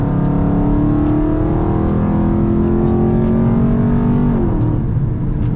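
A Dodge Charger 392 Scat Pack V8 in Sport Plus mode holds a loud, raised-rpm drone that eases down near the end, with light ticking over the steady engine tone.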